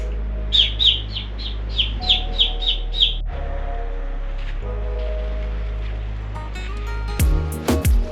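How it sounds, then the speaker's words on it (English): Young seabirds calling inside sea caves on a coast, a run of about eight sharp, evenly spaced chirps close by over a low steady rumble of wind and water, then quieter scattered calls and a burst of louder cries at the end. "Trying to call these baby birds."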